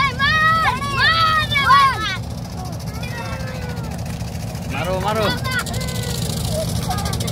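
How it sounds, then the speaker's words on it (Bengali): A motor boat on the Kaliganga river gives a steady low engine drone that runs throughout under shouting voices and nearby chatter, holding fairly loud and constant. "তো আবারও নৌকা আসতেছে"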